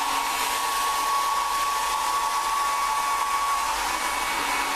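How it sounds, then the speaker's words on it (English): A hair dryer blows steadily on a freshly primed body panel of a Triumph Vitesse under rust repair, a loud continuous whooshing whine with a constant motor tone and no breaks. "Lastly, I'll just go with a hairdryer."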